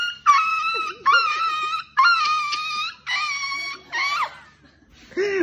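A man imitates a dog with a run of loud, drawn-out barks and howls, about six separate voiced calls close to the microphone, the last rising into a yelp.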